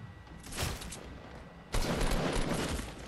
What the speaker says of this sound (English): We're shooting at him.